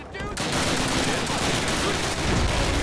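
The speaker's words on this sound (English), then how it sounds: "Got a tank still trying to shoot at us." Gunfire and tank shots from a Call of Duty battle, a dense, continuous barrage of loud bursts with no letup, voices faintly mixed in beneath.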